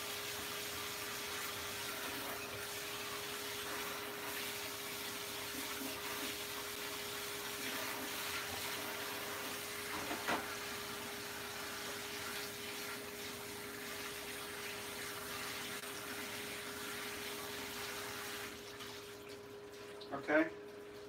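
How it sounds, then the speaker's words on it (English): Noodles rinsed under a running kitchen tap make a steady, faint hiss of flowing water with a constant hum beneath it, and a brief clatter near the end. "But you really have to rinse these noodles off."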